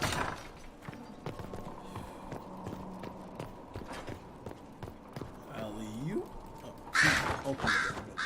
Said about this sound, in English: That crow scared the shit out of me.